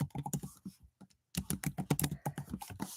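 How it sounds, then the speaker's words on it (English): Quick keystrokes rattle on a computer keyboard close by, in two rapid runs of clicks split by a brief pause. "I'm just going to type in a few things."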